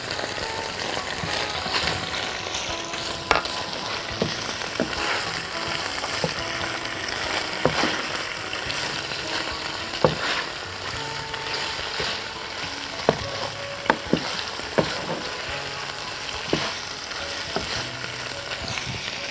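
Onion and garlic frying in a pan give off a steady, dense sizzle that carries through the whole stretch, with occasional clinks and scrapes of a stirring utensil, and nobody speaks.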